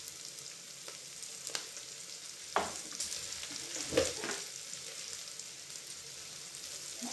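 Rice added to a hot frying pan gives a quiet, continuous sizzle with occasional scraping stir sounds and small clicks, close and steady throughout.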